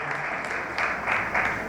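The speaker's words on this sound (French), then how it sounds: "je vous demande d'applaudir pour la qualité de son travail" An audience applauds at an award ceremony honouring human rights advocates in Haiti, a steady wash of clapping that swells twice in loud surges, with no voices over it.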